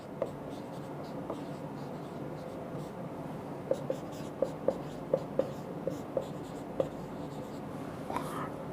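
A pen or chalk writing a straight-line equation by hand during a maths lesson, a quiet series of short taps and scratches over a low background hum.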